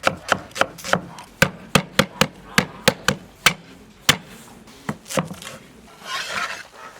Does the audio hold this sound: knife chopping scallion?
yes